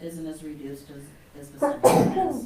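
A single loud, sharp sneeze bursts out in a meeting room right after a stretch of plain talking.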